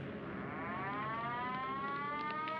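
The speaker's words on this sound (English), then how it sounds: "we heard the air raid sirens going" A wartime air raid siren wails, its tone climbing and holding at a loud, steady pitch with no other sound.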